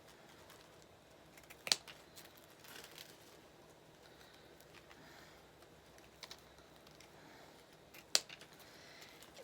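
Scissors trimming ribbon ends on a Mardi Gras bow wreath give a few faint, crisp snips spread across a quiet room.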